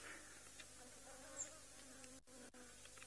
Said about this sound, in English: You can just hear them going whizzz